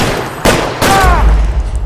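Gunfire in the 2011 PC video game L.A. Noire, two loud close shots about half a second apart, with a brief ringing tail and game background noise.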